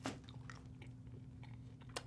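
Beef jerky being bitten and chewed close up, with moist crunchy chomps and tearing at a steady chewing rhythm, a sharp bite at the start and another near the end.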